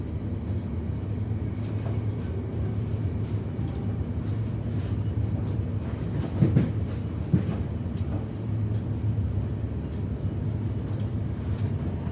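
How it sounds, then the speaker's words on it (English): A Siemens electric train rumbles past on Melbourne's Werribee line at steady volume, a continuous low drone with a few brief metallic clanks partway through. "Another train coming the other way."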